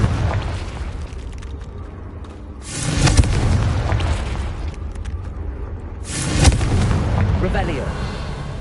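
Confringo fire spell explosions in the video game Hogwarts Legacy, two booming blasts a few seconds apart over a steady rumbling game soundscape.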